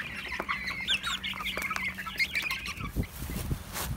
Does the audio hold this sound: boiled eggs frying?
no